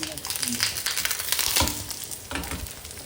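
A sweet cucumber thalipeeth made with jaggery fries in oil on a pan, crisping with a close, continuous sizzle and a couple of scraping stir or flip sounds, with no talking.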